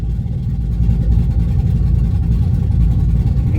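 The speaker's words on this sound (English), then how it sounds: "as soon as I flip it, you'll hear how loud it gets, because it just opens up automatically" Turbo LS engine with a CO2-powered exhaust cutout opened, venting through a straight 4-inch dump: a loud, deep, rumbling exhaust drone held steady close up.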